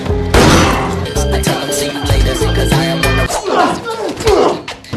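Loud, dense bursts of gunfire crackle and boom in rapid succession, layered with dramatic music, like an intense shootout.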